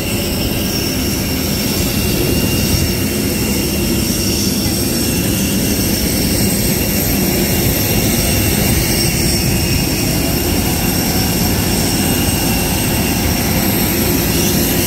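Vietnam Airlines jet engines roar steadily and loudly for the whole stretch, a constant broadband rumble with a high whine on top, heard close during boarding.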